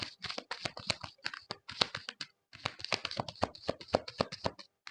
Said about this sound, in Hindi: let me shuffle one more time